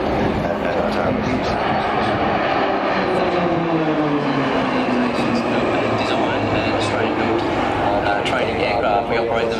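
A trainer aircraft flies past at an airshow, its engine a steady loud drone throughout while a commentator talks over it.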